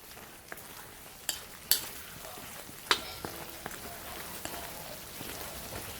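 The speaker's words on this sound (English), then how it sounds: "let's check on this curry. Oh, look at that guys. It's frying up, it's frying." Soft crackling and sizzling of iguana curry frying in a pan, with a few sharper clinks of a utensil against the pan.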